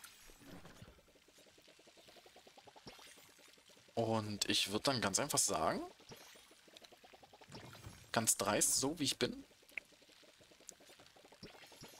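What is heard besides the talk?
watering plants in the video game Palia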